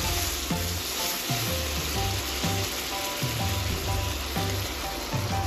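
Beef for igado frying in its own fat over low to medium heat, a loud close crackling sizzle with rhythmic stirring strokes repeating about every half second under a continuous hiss.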